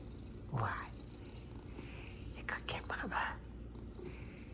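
A munchkin cat gives a short, soft meow, then a few quieter chirping cries, close by over a steady low background hum, with a person speaking softly nearby.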